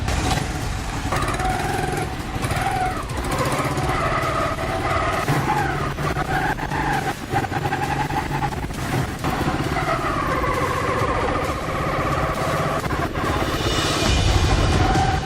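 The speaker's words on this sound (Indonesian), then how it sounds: "Saya ingin mencoba motor ini." A motorcycle engine runs steadily and loudly for the whole stretch, with a rough idling rumble and occasional slight revs, no voices.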